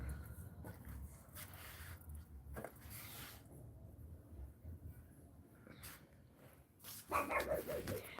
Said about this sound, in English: Now she's gonna bark.